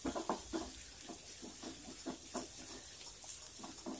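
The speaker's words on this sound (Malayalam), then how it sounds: "ഇതിലേക്ക് ഇട്ട് കൊടുത്ത് നന്നായിട്ട് അത് ഫ്രൈ ചെയ്യണം എണ്ണയിൽ" Scraped bitter gourd frying in oil, a steady soft sizzle with repeated stirring scrapes in an irregular rhythm, close by and fairly quiet.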